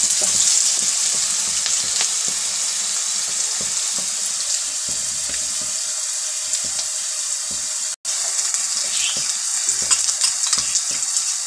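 Cumin seeds sizzle steadily in hot oil for an aloo matar curry, with brisk scraping and stirring of a spoon against the pan throughout and one brief dropout near the end, no voices.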